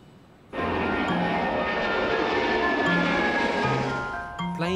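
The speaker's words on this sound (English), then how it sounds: "Planes keep on touching down," An airplane touching down at an airport, a loud sustained engine roar that starts abruptly and holds steady, with a faint whine fading near the end.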